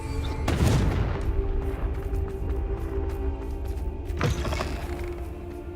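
Confringo blasting spells burst in a Hogwarts video game: a heavy explosion near the start, crackling debris, then a second sharp blast a few seconds later, with a low rumble between.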